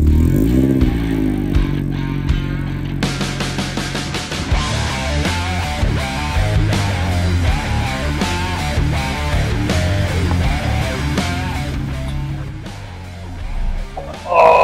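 Classic Ford car driving on a spin, with a steady engine drone and rapid clattering throughout, close and loud, with people's voices mixed in.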